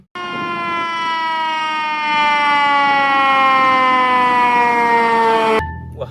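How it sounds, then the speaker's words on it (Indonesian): A toy fire truck's electronic siren wails loudly and steadily for about five and a half seconds, a single sustained tone drifting slowly downward, then cuts off abruptly into quiet handling noise. "Wow, ternyata ada mobil pemadam kebakaran."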